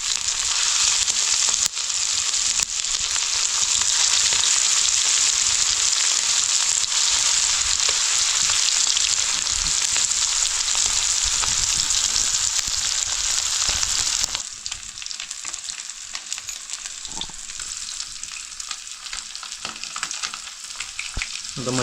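Garfish coated in masala fries on a wood-fired clay stove, a loud, dense, steady sizzle that crackles close up, then drops to a quieter hiss for the last several seconds.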